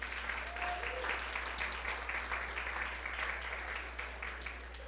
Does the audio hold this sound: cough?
no